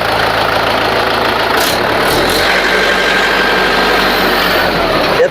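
A well-kept second-hand tractor engine runs loud and close, a heavy continuous rumble whose tone shifts partway through as the revs change, with no voices.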